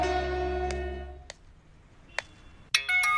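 A phone rings out with a steady electronic ringtone as a call goes to a friend. The tone cuts off after about a second, then a few faint clicks and a brighter chime follow.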